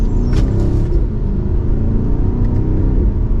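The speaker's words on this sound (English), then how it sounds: "We can give it another acceleration." A 2024 BMW X5 M60i pulls through an acceleration from second gear, a steady, loud engine drone and low rumble heard from inside the cabin, holding even throughout.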